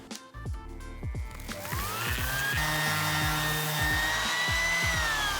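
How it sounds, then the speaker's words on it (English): Power sander running on an office chair, its steady whirring drone rising in pitch and holding with small shifts as it is pushed across the surface, close and loud, with no talk. "Start sanding the tops, then do all the left sides, then do all the right sides"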